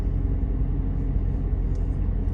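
A Mercedes SL55 with a stage 2 tune and supercharger idles with a deep, steady exhaust rumble, close and continuous with no voices.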